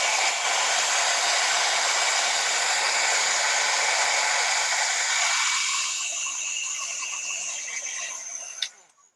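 A heat embossing tool blows steadily as it melts embossing powder on a birthday card, a continuous loud whirring hiss that softens near the end, then cuts off with a click.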